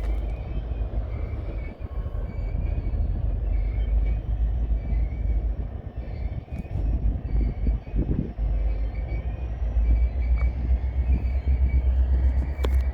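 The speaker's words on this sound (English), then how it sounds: "Whole lot of train for them little engines" Freight train of cement hopper cars hauled by small locomotives rolls past, a steady heavy rumble with wheel and rail clatter, continuous and fairly close throughout.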